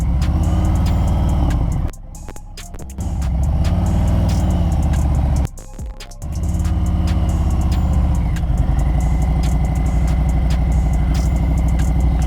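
A motorcycle engine drones steadily at low speed through slow turns, loud and close, with the rumble dipping twice briefly as the throttle eases off, no talk over it.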